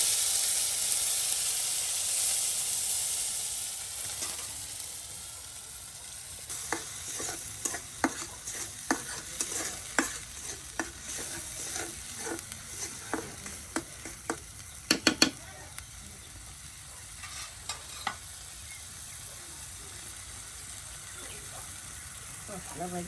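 Spices frying in oil in a pan on a clay stove, a soft steady sizzle with intermittent scraping and stirring clicks, close and fairly quiet, with no talk.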